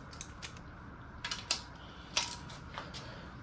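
A torque wrench tightening the harmonic balancer bolt on a small-block Chevy 305 engine, producing quiet mechanical ratcheting clicks in short bursts, including a few sharper snaps near the middle, with no talking.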